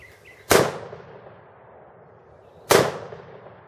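A DPMS Panther Arms AR-10 rifle fires two sharp, loud shots at a jug in an open field, about two seconds apart, each cracking hard and then echoing away.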